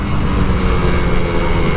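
A Kawasaki Ninja RR 150 motorcycle engine roars loud and close in a brief, rough revving burst of noise.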